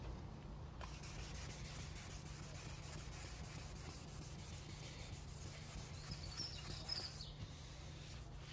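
Fine 1500 grit sandpaper rubbing over scratches on a car bumper, a steady close scraping hiss that continues without a break, with no talking.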